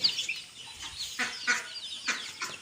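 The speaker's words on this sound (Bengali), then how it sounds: "দেখছো মুরগি আইছে হাঁস আইছে" Chickens and chicks cluck near a pair of ducks on a farm, a run of close, overlapping squawks and clucks rising in short bursts every half second or so, with no talk.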